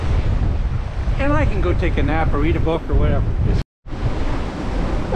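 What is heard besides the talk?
gale wind and waves at sea, Bay of Biscay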